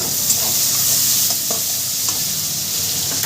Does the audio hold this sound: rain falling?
no